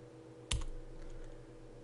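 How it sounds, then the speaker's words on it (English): A single key on a computer keyboard is pressed once, giving a sharp, close click against a quiet room hum. "we're going to press N, the letter N on our keyboard."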